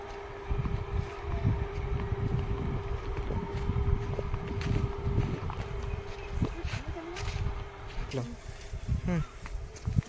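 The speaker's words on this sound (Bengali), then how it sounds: "পাশে বাড়িতে মোটর চালিয়েছে পানি চালিয়েছে" A neighbouring house's electric water pump motor hums steadily nearby throughout, a constant low drone beneath scattered buzzing, clatter and a distant voice, in a Sundarbans village.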